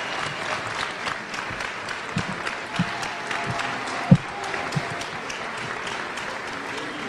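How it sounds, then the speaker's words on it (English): Graduates at a fall university commencement give a sustained round of applause in thanks to faculty and staff, a dense wash of many hands clapping with a few louder claps near the middle. "I want you to give a round of applause in thanks to the faculty and staff of the university"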